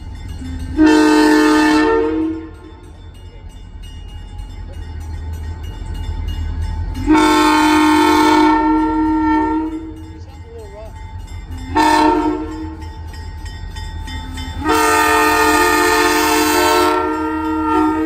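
A Nathan M3H horn on a GP40-2 locomotive of the St. Lawrence and Atlantic sounds four loud, close chord blasts, two long and two short, with train rumble between them.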